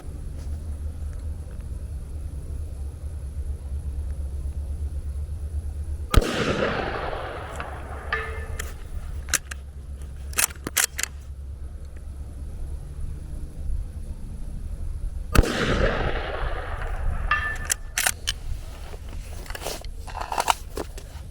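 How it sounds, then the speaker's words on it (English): Two rifle shots fire subsonic rounds from a saddle rest at a two-thirds-size IPSC steel target 330 yards away, each a sharp close report with a decaying rumble, spaced about nine seconds apart over low steady background hum. "shooting out of the saddle here at 330 yards on a 2/3 size IPSC with these subs"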